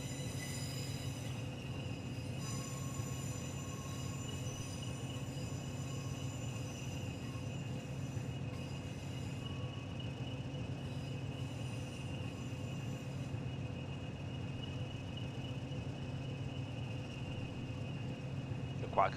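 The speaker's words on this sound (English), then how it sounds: "Quite cool, go around in a little steam loco." A steam locomotive runs in a train simulator video game, giving a continuous, even rumble with steady tonal hums for the whole stretch and a brief sharp sound at the very end.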